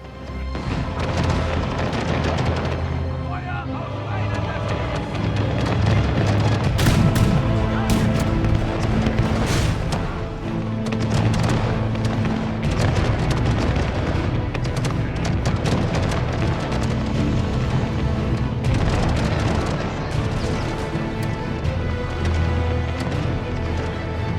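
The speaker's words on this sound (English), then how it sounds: "Under the cover of friendly artillery fire, the Swedes pushed forward." Heavy artillery and musket fire in a 1634 pike-and-shot battle from a Total War game, with dense, continuous booms, cracks and crashes layered over a loud rumbling battlefield, unbroken for the whole stretch.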